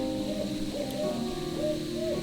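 An owl hoots several times in soft, wavering calls against a quiet background hum.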